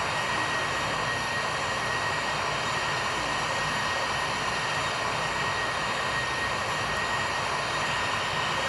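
Airbus A320 jet engines in the Infinite Flight game, United Airlines, drone as a constant broadband roar, steady and unbroken throughout, with no voices over it.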